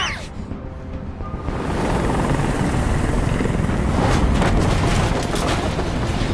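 A helicopter in the video game Detroit Become Human swells in as a loud, continuous rotor roar that holds steady throughout.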